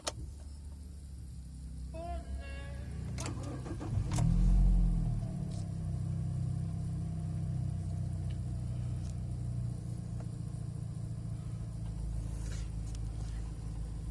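2013 Nissan Evalia NV200 with automatic transmission started by turning a key knob: a brief starter crank, then the engine catches with a low surge and settles into a steady idle, heard close from inside the cabin.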